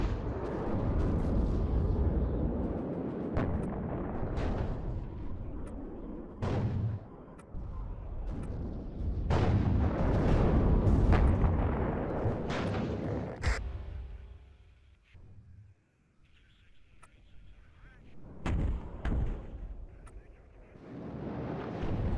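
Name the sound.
artillery fire and impacts in video game WARNO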